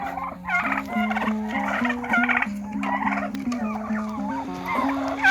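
Male turkeys gobble close by in quick, repeated bursts, one call overlapping the next in a steady, noisy chorus of farmyard birds.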